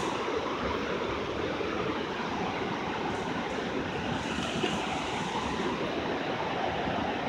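Bald River Falls pours over a big drop, producing a loud, unbroken roar of rushing, splashing water that holds steady from start to finish with no voices.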